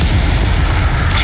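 A blast from the Incendio fire spell in the Hogwarts Legacy video game, a loud, dense, rumbling whoosh that fills the whole brief moment with steady force and no voices.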